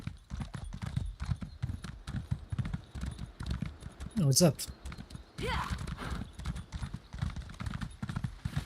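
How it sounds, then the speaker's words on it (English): Rhythmic clip-clop of horse hooves in Elder Scrolls Online at a steady pace, close and continuous, with a person talking over it and a brief whinny midway. "Not the fastest horse ever."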